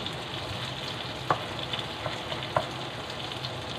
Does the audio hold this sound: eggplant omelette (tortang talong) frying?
yes